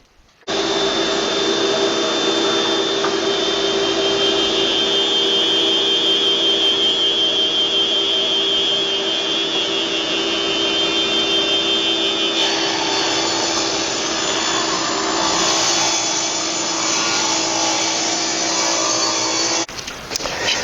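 Steady, loud motor whine of a saw ripping about half an inch off smoothed oak boards for a wardrobe base, running continuously for about twenty seconds with a shift in tone midway as the cut progresses, no talking.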